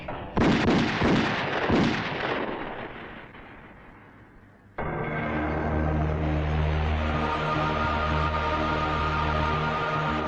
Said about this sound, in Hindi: चलाओ गोली, चलाओ, चलाओ ना।